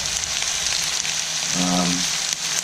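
Rice frying in oil for nasi goreng in a hot pan, a continuous loud sizzle with a brief stronger hiss partway through, no talking.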